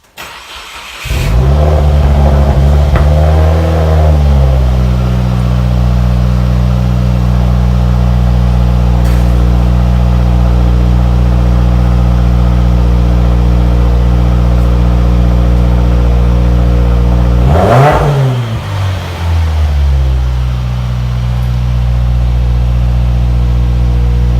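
A 2016 Subaru WRX with an aftermarket axle-back exhaust on the stock mid pipe cranks and fires up, settling into a loud, deep exhaust idle, then blips with a sharp rev before returning to a steady rumble.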